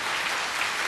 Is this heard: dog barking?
no